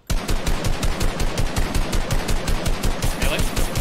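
Rapid automatic gunfire in the video game Fortnite, a fast unbroken burst of loud, evenly spaced shots running almost the whole time, up close.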